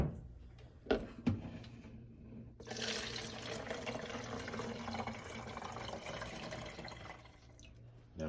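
Warm homemade bone broth pours from an Instant Pot into a plastic container, starting with a few drips and splashes, then becoming a steady, close liquid stream that runs for several seconds.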